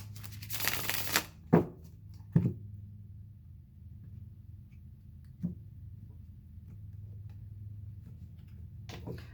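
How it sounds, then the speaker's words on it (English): A deck of tarot cards is riffled and handled, a dense papery burst of shuffling followed by a few sharp slaps and taps against quiet room tone, close and soft. "so one more shuffle for Gemini"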